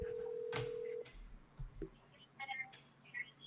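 A telephone call being placed: a steady dial tone holds for about a second, then a few short, faint dialing tones follow, with soft low whispery voice sounds and handling noise around them.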